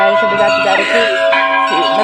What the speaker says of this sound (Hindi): वो घंटी बजाने की आवाज़ जिसकी ध्वनि थी ना, बहुत सुकून दे रहा था